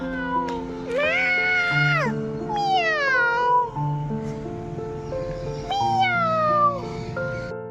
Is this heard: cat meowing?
yes